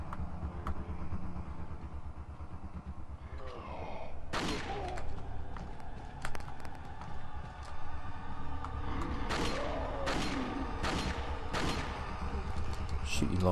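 Gunfire from the video game Resident Evil 4, several sharp loud shots spaced a second or so apart over a steady game soundtrack and rumbling background, with talking over it.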